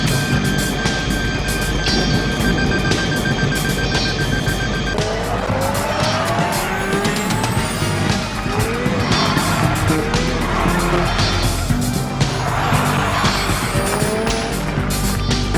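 A speeding car races with skidding, squealing tires, loud and continuous, engine roaring while tire screeches rise and fall through the whole stretch.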